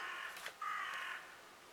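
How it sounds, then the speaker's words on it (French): Crows caw outdoors, a couple of harsh calls in quick succession, moderately distant and fairly faint. "Oh, vous entendez les corbeaux."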